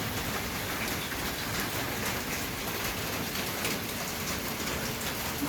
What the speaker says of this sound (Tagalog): ulan nga ng ulan